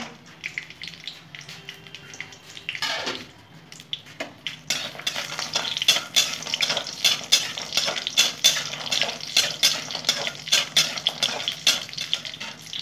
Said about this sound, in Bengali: সঙ্গে থাকো বন্ধুরা, একটু বড়িগুলো ভেজে নেবো।